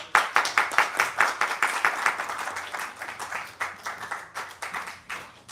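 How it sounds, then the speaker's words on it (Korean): An audience applauds a presenter after a business talk, a dense burst of clapping that stays lively and steady throughout before easing slightly toward the end. "우리 방승백 리더님께 다시 한번 큰 박수 부탁드리겠습니다"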